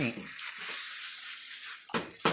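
Spaghetti Napolitan sizzles in a frying pan with a loud hiss while a spatula stirs it, and sharp metal scrapes stand out near the end.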